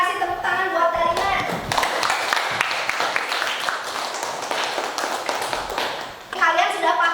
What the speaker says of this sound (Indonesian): tepuk tangan buat Darina.